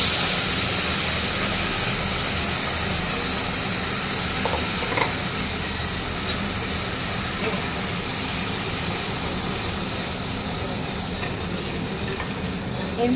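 A spice paste of mustard, ginger and green chili with nigella seeds fries in hot oil, giving a steady close sizzle with occasional stirring scrapes throughout.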